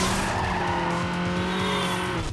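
Racing cars roar and tires squeal continuously in the Need for Speed Underground video game, a loud, dense engine drone with a sustained screech that drops away abruptly at the end.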